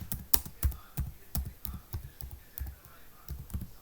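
Quick, irregular clicks of typing on a computer keyboard while writing a document in MS Word, close and fairly quiet, with a steady run of keystrokes and no talk.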